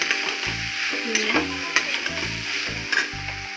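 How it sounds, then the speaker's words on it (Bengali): Chopped bottle gourd fries in a pan after a tempering of mixed spices while being stirred for shukto, giving a steady close sizzle with repeated scraping stirs and clunks of the utensil against the pan, low thuds recurring every second or so. "কুচানো লাউগুলো লাউটা দিয়ে দিয়েছি এবার নাড়াচাড়া করে"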